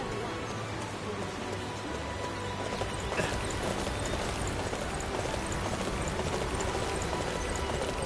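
Horse hooves clip-clop steadily in Dynasty Warriors 9, a continuous rhythmic trot layered over a busy, rain-like game soundscape with no one speaking.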